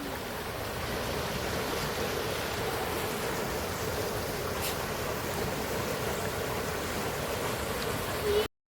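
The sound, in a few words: water flowing from Peechi dam past paddy fields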